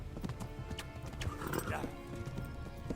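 Horse hooves clip-clopping in the video game Kingdom Come: Deliverance, a steady trot of close hoofbeats with a whinny partway through and a voice briefly over it.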